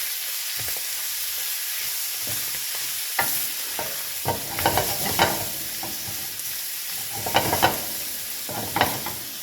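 Tomatoes and chilies hiss and sizzle in a hot pan while a spoon stirs them, scraping and clacking in irregular bursts over a constant frying sound, close up with no voices.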